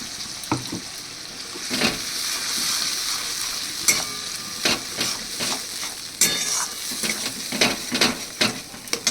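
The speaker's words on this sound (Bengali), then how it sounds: "একটু লোতে রেখে এই পেঁয়াজটা মিনিট 2 মতো নাড়াচাড়া করলে" Onions are stirred in a pan over low heat for a Bengali doi katla curry, with a spoon scraping and clacking in irregular strokes over a continuous gentle sizzle. No one speaks.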